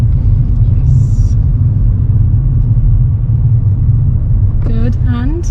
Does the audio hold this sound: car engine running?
yes